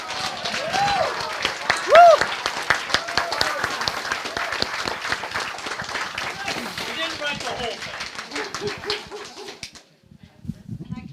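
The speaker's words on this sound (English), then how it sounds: "I would like a big hand of applause for Donna and Tom" An audience at a community murder-mystery theater night claps. Scattered applause mixes with lively voices and whoops, then cuts off abruptly near the end, leaving a short quiet tail.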